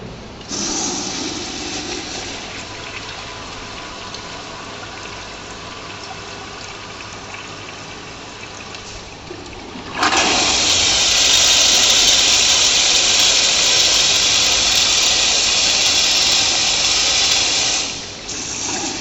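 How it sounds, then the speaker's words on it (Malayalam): Jaquar toilet in a plumbing lab flushing, a low steady hiss of water giving way midway to a loud full rushing flush that runs several seconds, then drops off sharply. "ഇങ്ങനെ ഫുള്ള് ഫ്ലഷ് ചെയ്ത് കഴിഞ്ഞിട്ട് പിന്നെ നമുക്കൊരു റിൻസിങ്ങും കൂടെ വരുന്നുണ്ട്."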